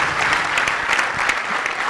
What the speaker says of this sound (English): How about a thunderous round of applause for the wall, Rahul Dravid?